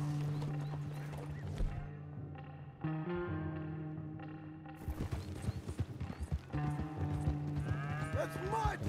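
Video game horse neighs and whinnies with clip-clopping hooves over steady background music, with a few short bursts of activity partway through.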